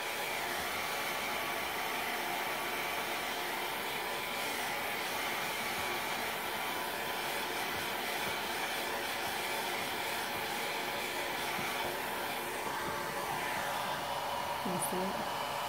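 A handheld heat dryer blows steadily on a stained craft transfer, a continuous loud whirring hum that holds even and unbroken throughout, with no voices.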